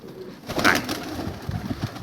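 Domestic pigeons coo close by in a soft, throaty, rolling call that swells briefly and then murmurs on, with no voices over it.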